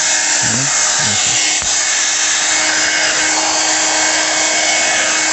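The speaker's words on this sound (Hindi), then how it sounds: "तो वो है हेयर ड्रायर ही जैसे" A handheld hair dryer blows steadily at close range on a low warm setting over hair after a hair transplant, a constant airy roar with a steady whine running throughout, with a few brief bumps near the start.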